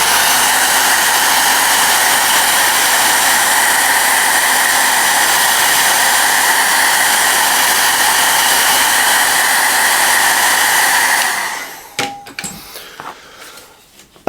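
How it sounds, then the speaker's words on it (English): A hairdryer blows steady, loud air over a freshly painted miniature, a continuous broadband roar that cuts off around eleven seconds, leaving a few faint handling clicks. "let's get the hairdryer on this a little bit"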